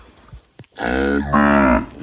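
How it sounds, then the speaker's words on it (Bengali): A single loud, close moo from a heifer, drawn out for about a second with a rise in pitch partway through, after a brief quiet moment. "এটা হলো বকনা"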